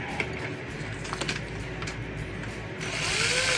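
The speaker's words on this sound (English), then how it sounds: "I'm trying to get that screw out so I don't lose it." A screwdriver works a small screw loose from the power switch housing of a Dyson DC07 or DC14 vacuum, giving soft close clicks and scraping turns, with a brighter rustle toward the end.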